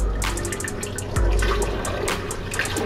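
Coffee, about an eight-ounce cup, pours steadily into an old blender, a close, continuous liquid splash with a few brief clinks and a low thump partway through.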